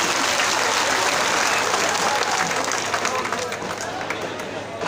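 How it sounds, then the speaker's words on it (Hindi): A crowd at a public gathering breaks into loud, dense applause, a sustained wash of many hands clapping that fades slightly toward the end, with voices mixed in. "तो इसके लिए एक बार जोर से ताली मारिए।"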